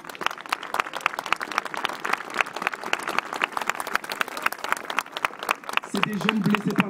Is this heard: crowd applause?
yes